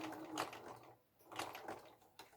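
A sewing machine stitches down a fabric fold in two short, quiet bursts of rapid clatter separated by a brief pause.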